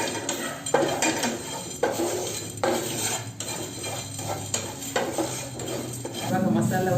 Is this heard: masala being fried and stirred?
yes